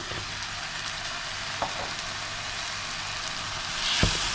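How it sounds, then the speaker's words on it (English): Sliced mushrooms sauté in a pan for a cream of mushroom soup, giving a steady soft sizzle with occasional faint clicks and a slight rise near the end, with no talking. "you can see the mushrooms are nicely sauteed"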